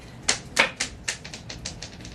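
Dice rolled onto a hard surface, clattering in a quick series of sharp taps that bounce and grow quieter and closer together as they settle, with no voices.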